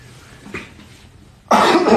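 A single loud, rough cough from a person with flu breaks out close up after a quiet stretch with a faint earlier sound.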